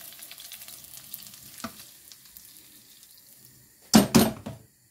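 Vegetables frying in butter in a pan while spinach with milk is cooked, a faint steady sizzle with stirring, then a loud burst of crackling spatter near the end.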